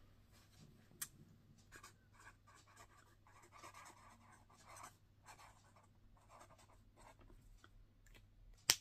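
Medium-tip felt markers squeak and scratch softly across paper in a quiet room, with intermittent strokes and small pauses between them.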